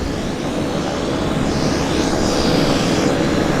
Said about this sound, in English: So we have an aircraft on finals.